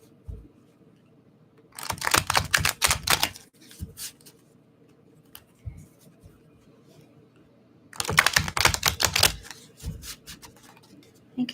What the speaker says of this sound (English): Let me do another shuffle here for Leo.